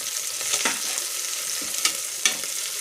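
Chillies sizzle steadily in hot oil with lightly browned onions in a home kitchen pan, a continuous close frying hiss broken by a few sharp crackles as the mixture is stirred.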